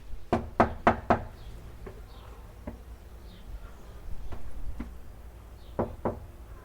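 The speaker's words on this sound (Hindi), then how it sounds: "नॉक करते हैं।" Someone knocks on a door three times in a quick sharp burst. Single faint taps follow, then a double knock near the end, over a quiet room background.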